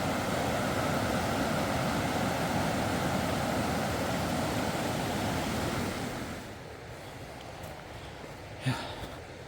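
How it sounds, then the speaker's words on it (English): A waterfall on an Arkansas hiking trail roars as a loud, steady rush of water, then drops abruptly to a quieter, more distant wash with a faint knock near the end. "Got another waterfall and a water crossing."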